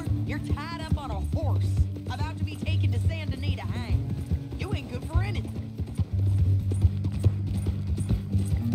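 Horse hooves clip-clop at a steady walking rhythm in the Western video game Red Dead Redemption 2, with creaking tack and gear, under continuous character dialogue.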